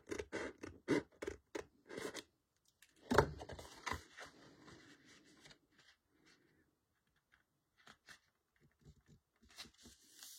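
Scissors trimming a thin strip off a sheet of card, giving several close, crisp snipping and scraping strokes in quick bursts, with quieter pauses and handling noises in between.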